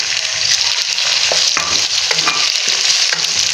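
Five medium tomatoes go into frying chana dal, followed by brisk close-up stirring with scraping clicks over a loud, continuous sizzle.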